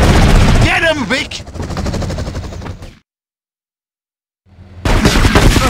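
Bursts of gunfire in the game Grand Theft Auto: Vice City Stories, loud and close, mixed with voices, then a sudden dropout to silence before the shooting returns.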